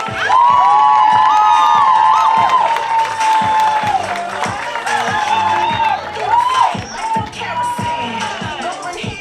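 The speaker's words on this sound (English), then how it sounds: "I want you guys to make it super loud for the hilarious Becky Lynn, everybody." A comedy club crowd claps, cheers and whoops loudly after a comic is introduced, steady dense applause with shouts for about nine seconds before it thins.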